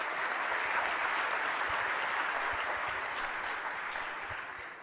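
An audience gives sustained, dense applause at a live event with a sheikh questioning the crowd, many hands clapping evenly and loudly before tapering slightly at the end.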